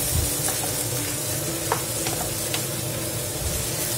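Ingredients for a Black Sea bean dish sautéing in a pan, a steady close sizzle and hiss with faint scrapes of stirring.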